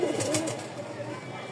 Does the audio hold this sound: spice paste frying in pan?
no